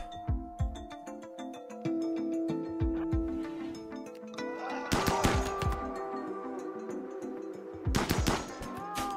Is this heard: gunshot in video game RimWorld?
yes